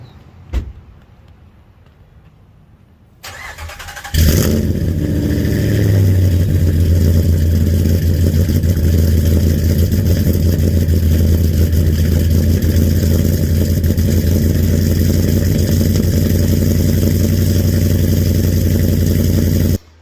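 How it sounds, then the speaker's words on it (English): A door clunks, the starter cranks briefly, and a Ram pickup truck with an MBRP catback exhaust cold-starts into a loud, deep, rumbling idle with a raspy exhaust drone that holds steady. "let's get the very last cold start of the Ram with the MBRP catback"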